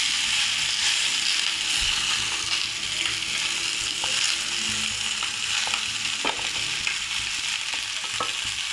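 Tomatoes fry in a hot pan with a constant loud sizzle, broken by occasional sharp clicks and scrapes as the pieces are stirred.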